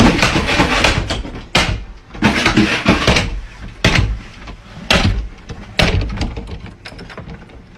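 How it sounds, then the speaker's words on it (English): A door in an apparently empty house bangs and rattles repeatedly as it closes seemingly on its own, with sharp, loud knocks recurring roughly every second for several seconds. "a door can be seen closing seemingly all by itself"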